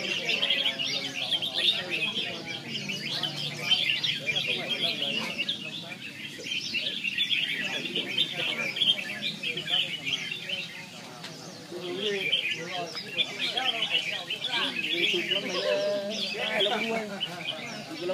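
Red-whiskered bulbuls kept as cage birds chirp steadily, bright repeated tweets and short warbles filling the whole stretch, close by and fairly loud, with no talking over them.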